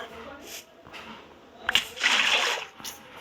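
Water splashing from a bucket in a video game: a short splash near the middle of the clip, then a louder, fuller watery rush lasting about half a second. It sounds close and is followed by a faint trailing splash.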